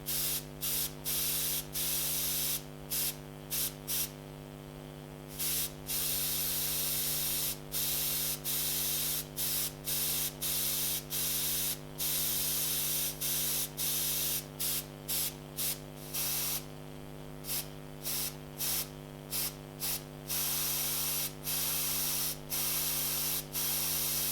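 Airbrush spraying paint onto a pet portrait, with short and longer bursts of soft hiss over a steady compressor hum, close and even, without talking.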